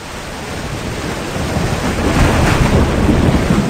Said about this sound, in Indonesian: Badai sudah turun dan semua orang harus berlindung.